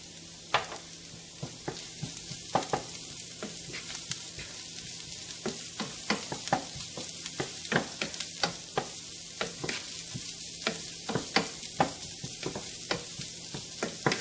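Garlic, ginger and green chilli sizzle in a pan as a utensil stirs and scrapes, producing repeated sharp clicks over a steady soft frying hiss for a crab masala, close up with no talking.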